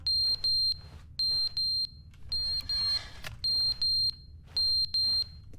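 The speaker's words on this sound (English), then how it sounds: "So the fire alarm's going off" Fire alarm sounding in The Stanley Parable, repeated groups of loud shrill electronic beeps in a steady on-off rhythm, with a burst of noisy background sound partway through.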